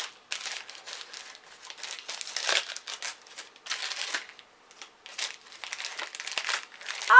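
An advent calendar gift package being opened, with close crinkling and rustling of paper or wrapping in uneven bursts and no speech.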